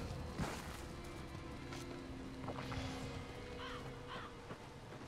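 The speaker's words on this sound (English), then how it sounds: "Shut up, crows." Crows caw several times in a video game, set among ambient background noise with low drones and faint splashes, the calls fairly distant and irregular rather than close and loud.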